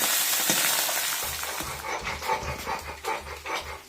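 Fish frying in a pan, a hissing sizzle loudest at the start that settles, joined by rhythmic stirring or scraping bursts, with no talking.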